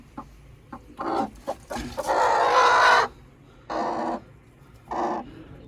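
A hen sitting on eggs clucks in several separate bursts, with one longer drawn-out squawk near the start, close by in an otherwise quiet space.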